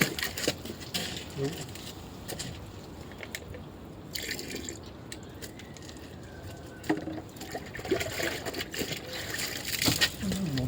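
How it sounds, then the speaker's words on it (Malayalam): Water poured and splashing over a car during a wash, irregular drips and splatters up close, fairly quiet and uneven, with scrapes and handling noises and someone talking at times. "ടോപ്പ് കഴുകി നമ്മൾ വെള്ളം ഒഴിക്കാൻ പോകണം വെള്ളം ഒഴിക്കണം"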